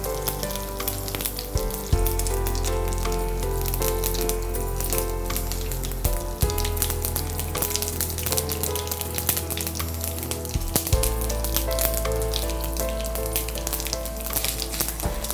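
Chana dal, curry leaves and dried red chillies fry in hot oil with a loud, continuous sizzle and scattered pops, close up and unbroken by any talking.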